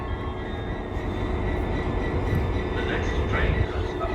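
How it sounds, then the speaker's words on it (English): A train passes through Cork railway station with a steady, loud rumble of rolling wheels and rail noise, a faint squeal rising near the end; no one speaks over it. "Here's another train."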